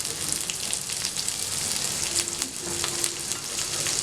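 Sliced onions fry in a pan for a crab masala dish, giving a close, steady, dense sizzle and crackle that holds even throughout with no voices.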